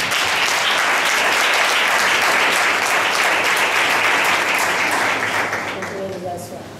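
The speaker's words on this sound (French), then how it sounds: "merci de les applaudir" A loud crowd applauds a couple at a civil wedding ceremony, sustained clapping from many guests that eases toward the end as a voice and faint tones emerge beneath it.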